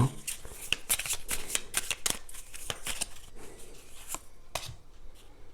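Tarot cards being shuffled and handled: a quick run of crisp riffling slaps and flicks, close and fairly loud, with a few softer card taps toward the end.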